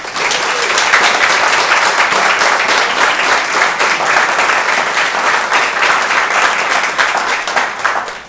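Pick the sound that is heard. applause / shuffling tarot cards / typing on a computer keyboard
applause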